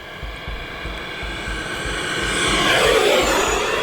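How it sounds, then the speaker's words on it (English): An 80mm E-flite F-18 Blue Angels RC model jet's whine swells as it approaches and passes, rising in loudness toward the end over a steady low rumble. "Okay, if you missed the maiden, you did not get to hear this sound, listen to this pass."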